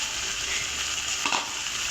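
Mola fish rubbed with salt and turmeric dropped into potatoes frying in a pan, giving a steady close sizzle with a brief louder burst of crackling as the fish goes in, alone without voices.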